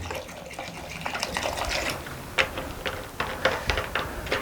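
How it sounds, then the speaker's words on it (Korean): Sterilizing disinfectant liquid, the kind used for washing vegetables, fruit and meat, pours out in an uneven splashing gush over orchid bark stones, with several louder spatters along the way and no talking. "여기다 이렇게 부어버려요, 이렇게."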